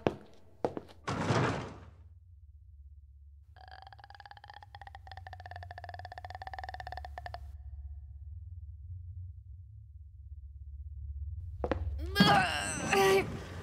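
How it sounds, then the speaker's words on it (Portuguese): A heavy door in a Halloween audio drama, heard as a dull thunk followed by a long low moaning creak with silence around it and a later clatter; no voices. "porta pesada maldita!"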